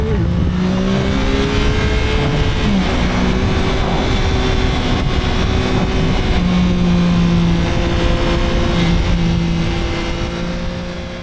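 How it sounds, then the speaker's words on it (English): A 2024 Yamaha MT-09 SP motorcycle accelerating, its airbox intake noise carried through audio amplifier grills as a loud, continuous engine drone with shifting tonal pitch and no talking. "we do have these audio amplifier grills, which are basically a way of getting more direct air from the air box so you can hear the intake noise"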